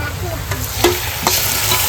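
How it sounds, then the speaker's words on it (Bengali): Ginger, garlic and green chili paste fries with sautéed onions in a pan, giving a steady close sizzle broken by a few scraping stirs. "পেঁয়াজটা ভাজা হয়ে গেছে এবার আদা রসুন লঙ্কা বাটাটা দিয়ে দেবো"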